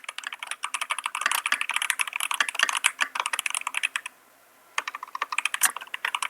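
Rapid, close keystrokes on a computer keyboard as someone types a message in a game. The keys clatter in a steady run, stop for a brief pause, then start again.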